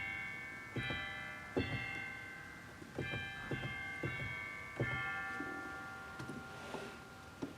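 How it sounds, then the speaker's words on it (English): Chime stop on a church organ at a Newman Center rings out in a series of bright, sustained bell-like tones, struck about a dozen times in an uneven rhythm and left ringing, fairly soft and close. "There's chimes right here."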